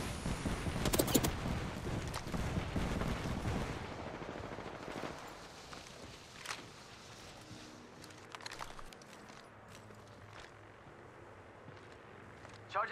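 Gunfire in a shooter video game, a loud burst of rapid shots up front, then scattered distant cracks and pops continuing more faintly.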